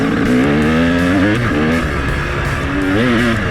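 A KTM 300 two-stroke dirt bike engine revs loud and close, pitch climbing and falling through several sharp throttle blips and sustained high revs, with no talking.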